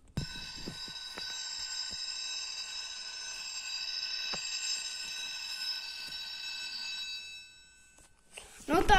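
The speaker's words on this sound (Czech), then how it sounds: "zvoní nám poplach" A fire station alarm rings loud and shrill, a sustained electronic bell tone with steady pitch for about seven seconds before cutting off, followed by brief rustling and a voice at the end.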